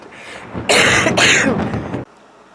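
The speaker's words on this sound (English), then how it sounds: "It's strep throat, a lot of coughing." A short burst of harsh, rough coughing from strep throat, two quick hacking bursts close to the mic, then it cuts off abruptly.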